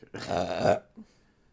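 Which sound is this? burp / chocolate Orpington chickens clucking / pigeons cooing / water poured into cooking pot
burp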